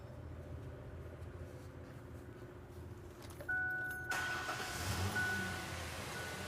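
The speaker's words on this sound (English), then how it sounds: "What we want to do is start the vehicle and check the fluid one more time." A car engine starts during a transmission fluid service: a low idling rumble gives way to a louder, fuller roar midway that holds steady to the end, with no speech.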